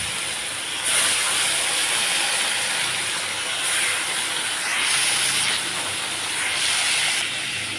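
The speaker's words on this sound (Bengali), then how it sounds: "এদিকে তেলও গরম হয়ে গেছে, এখন আমি মাছগুলো ভেজে নিচ্ছি।" Fish frying in hot oil makes a loud, continuous hissing sizzle that swells and eases in waves, with no voices over it.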